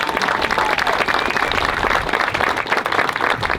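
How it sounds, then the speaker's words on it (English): A crowd at the ribbon cutting for Angie's Playground in Florissant claps loudly and continuously outdoors, a thick, close wash of hands with scattered cheering voices mixed in. "And again, let's clap it up."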